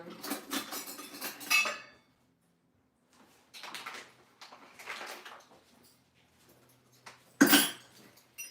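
Metal cutlery and utensils clatter and clink as someone rummages through a drawer in several bursts with quiet gaps between them, ending in one sharp clang.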